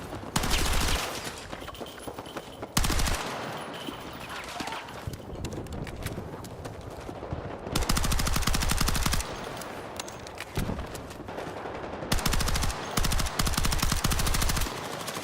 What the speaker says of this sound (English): this gun got double nerfed, but I can still shoot like that